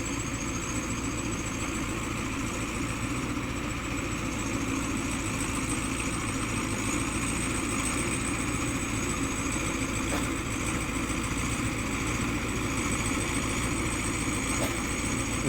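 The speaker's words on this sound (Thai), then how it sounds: "แรงจัดสัมผัสได้เลย เครื่อง V8 ครับ" A V8 engine drives a soil-tilling tractor churning through a dense grassy field, running in a loud, steady, low rumbling drone, close by and unbroken throughout.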